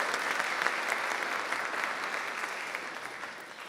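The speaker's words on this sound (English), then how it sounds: "Please join me in a final round of applause for the Thesis Award recipients." A graduate school awards ceremony audience applauds thesis award recipients, a dense, even round of clapping sustained for nearly four seconds at moderate level, with no voices over it.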